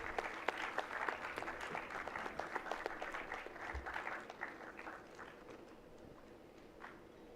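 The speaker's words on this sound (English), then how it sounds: "A big round of applause, everyone." An audience at a food-startup panel event applauds with a dense, moderately loud burst of clapping that gradually thins and fades over several seconds, with no voices over it.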